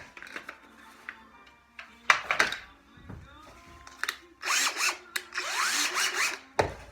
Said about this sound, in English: I have to go ahead and pre-drill 1/8" holes into all these as pre-drills to go through